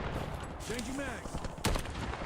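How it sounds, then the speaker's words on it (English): Video game gunfire: a quick cluster of close, sharp shots cracks out in the middle of the clip over a murky low rumble, with faint pitched game effects drifting beneath. "Incoming shots."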